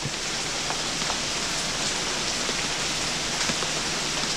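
Steady rain falling, a dense continuous hiss of drops on surfaces, loud and even throughout with no voices.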